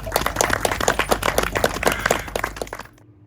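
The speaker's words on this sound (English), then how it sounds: "So I'd like to kick off a big round of applause" An audience at a Moggyfest car show at Beaulieu Motor Museum bursts into applause, dense close clapping that swells for nearly three seconds, then stops sharply into quiet.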